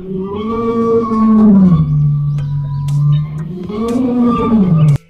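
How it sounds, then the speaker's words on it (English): A lion roars loudly and close, one long, deep, rising-and-falling bellow that fades, then swells again before cutting off abruptly. "L for lion."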